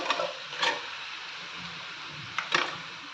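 Marinated chicken dropped into a pan of fried onions, giving a steady low sizzle with two short bursts of stirring and scraping near the start and end, close and fairly quiet.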